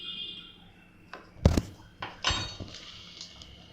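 Pizza dough ingredients, including baking soda, baking powder and salt, are mixed in a bowl, with irregular clinks and knocks of a utensil against the bowl's sides, fairly close.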